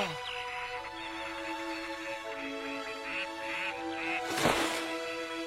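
A duck quacks a few times against a steady background hum, ending with a brief louder burst near the end.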